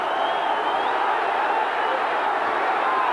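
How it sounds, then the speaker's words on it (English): A boxing arena crowd stands and cheers wildly around the ring, its roar a broad, unbroken surge of massed voices at a constant high level. "Crowd going crazy."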